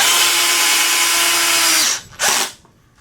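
A power drill whines steadily as it drives a screw into the wooden body of a T-Bird bass while a Fender Precision bass neck is fitted, then stops abruptly with a brief second burst before it falls quiet.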